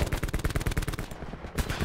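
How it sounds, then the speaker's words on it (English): Automatic gunfire in the video game Black Ops 4, a rapid, loud burst of repeated shots rattling close by for under two seconds. "Some guys just shot right at me but missed."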